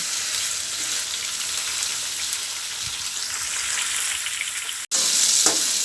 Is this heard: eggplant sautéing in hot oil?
yes